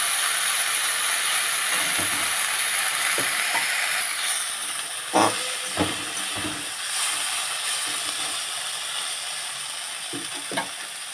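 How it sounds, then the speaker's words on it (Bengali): Flowers fry in oil in a pan, giving a steady bright sizzle close by, with occasional scraping and knocking from stirring. "ভালো করে নেড়ে ছেড়ে ফুলটাকে ভেজে নেব"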